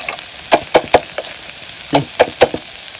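Dung beetles stir-fried in a pan make a series of loud, sharp scraping and rattling strokes in two bursts over a quiet, low sizzle, with no one speaking.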